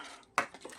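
Salt being stirred into a soaking mixture for fish in a bowl, heard as a single sharp utensil clink followed by a few softer scrapes, close and brief with no talking.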